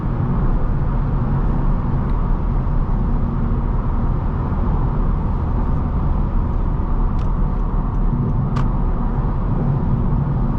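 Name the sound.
2025 Honda Civic Hatchback engine revving under acceleration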